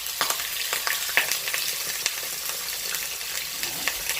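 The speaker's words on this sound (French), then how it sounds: "Nous allons le faire revenir dans l'huile d'olive." Salmon fillets frying in olive oil in a wok, a steady close hiss of sizzling fat broken by scattered sharp crackles and spits throughout.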